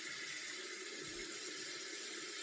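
Tap water runs steadily into a basin for handwashing crochet items, a close continuous broadband rush with a faint low splash partway through, no talking.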